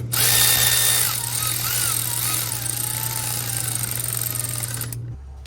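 A power tool spins bolts into the engine of a barn-find Jeep CJ5, a steady whirring motor drone with a rising and falling pitch that runs for about five seconds and then cuts off.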